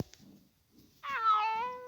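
Meowing of a cartoon cat in the Toca Life video game, a single drawn-out meow sounding close and clear after a quiet pause, with no talking over it.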